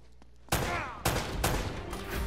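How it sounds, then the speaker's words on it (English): Shotgun blasts in the video game Uncharted, three loud, sharp booms spaced about half a second apart, each with a short ringing tail over a low background. "that fucking shotgun"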